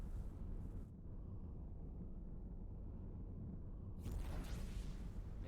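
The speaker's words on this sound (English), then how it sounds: "Just listen to the hum of the engines that they have." Spaceship engines in the game Avorion give off a low, steady rumbling hum, soft and continuous throughout with a brief airy swell near the end, heard alone without speech.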